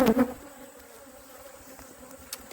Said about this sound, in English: Then I have the swarm on the right.